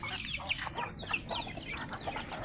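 Chickens clucking and calling continuously in a farm coop on a feed round, several birds close by with overlapping chatter and no talk.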